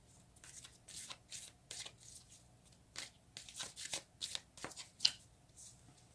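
Tarot cards are shuffled by hand, giving a run of soft, crisp riffling bursts in irregular rhythm, close and quiet, with no talking.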